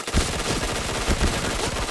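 Gunfire from a shooting video game crackles in rapid bursts of shots, loud and dense for about two seconds with no voices.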